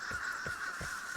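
Crows caw in the video game Vigor, a repeated harsh cawing in a steady rhythm against a constant outdoor ambience, moderately loud and somewhat distant.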